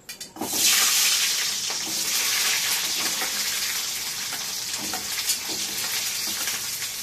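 Small onions (shallots) are dropped into hot oil in a pan and burst into a loud, close hissing sizzle that settles into a steady crackling fry, with faint stirring scrapes.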